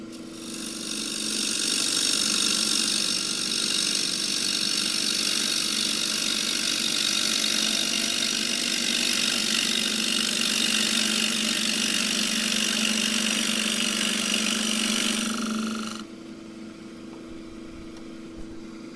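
A scraper cuts steadily across the bottom of a wooden bowl on a running lathe, a sustained rasping hiss over the motor's hum that carries on without a break, then stops near the end and leaves the lathe quietly humming.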